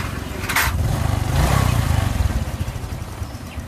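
A Honda Future 125 motorcycle engine runs just after a cam chain repair, a steady close chugging idle with a swell in revs midway, alone without talk.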